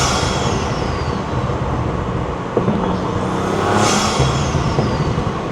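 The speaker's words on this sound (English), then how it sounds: "the blow off sounds really cool" Audi RS5 fitted with a 034Motorsport turbo inlet, turbo whistle spooling up over a loud engine drone, with a rising whoosh and blow-off release heard up close around the middle.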